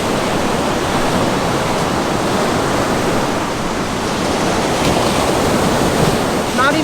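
Ocean surf breaking on a beach during surf fishing, a steady loud broadband wash with no distinct individual wave crashes, continuous throughout.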